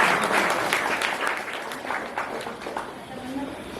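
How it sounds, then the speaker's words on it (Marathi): An audience at a senior citizens' association felicitation of 10th and 12th grade students breaks into sustained applause, a dense wash of clapping that slowly fades, with voices mixed in. "सर्वांनी एकदा जोरदार टाळ्या होऊन जाऊ द्या ज्येष्ठ नागरिक संस्थेचा"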